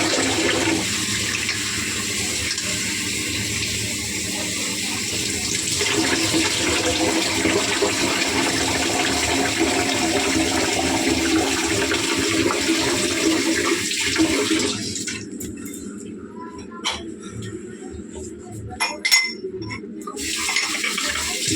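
Water runs steadily from a tap in a kitchen while ingredients are rinsed. The flow is continuous and near, then turns choppier with small clinks of dishes toward the end.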